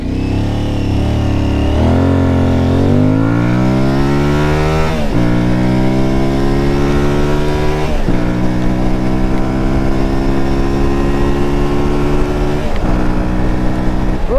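An Aprilia Tuareg 660 motorcycle accelerating hard from 0 to 100 km/h, the engine revving loudly through rising pitch sweeps with several gear changes, sustained and close with steady wind noise.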